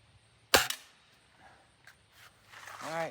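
A Beeman 1022 .22 caliber air rifle fires one pellet outdoors with a single sharp, close crack, followed by faint handling noises and quiet background.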